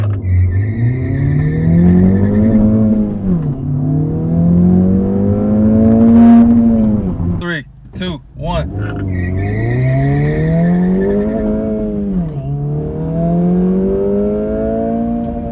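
A car launches hard on a timed acceleration run, its loud engine rising and dropping through gear changes, with a brief burst of wheel spin and tire squeal midway.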